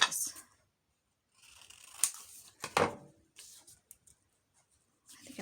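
Scissors snipping through old book page paper, a few short, crisp cuts close by with quiet pauses between them.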